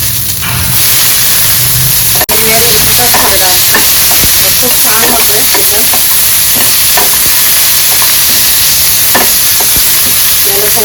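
Green chillies and onion frying loudly in a pan for chicken kharda, a close, roaring hiss of hot oil with irregular spatula scrapes and taps, and one sharp click near the start.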